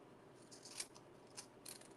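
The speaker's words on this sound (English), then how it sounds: "Amy, your scissors didn't even go all the way through." Scissors snipping along paper edges to scallop them, the blades struggling and shredding rather than cutting cleanly; a few soft, brief crunchy snips spaced apart, close and quiet.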